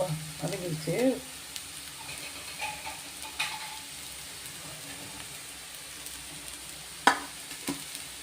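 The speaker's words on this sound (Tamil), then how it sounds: "வெங்காயம் கொஞ்சம் வதங்கட்டும்." Onions and spinach sauté in a pan for a palak keerai poriyal, a soft steady sizzle running throughout with a few scraping stirs and light clinks, while a voice murmurs briefly near the start.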